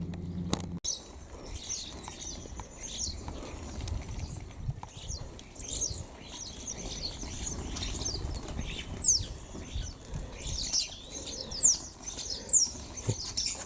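Starlings feeding in an East Yorkshire garden, with repeated soft wing flaps and scuffling alongside faint chirps and calls, a steady busy patter throughout at low level with no talk.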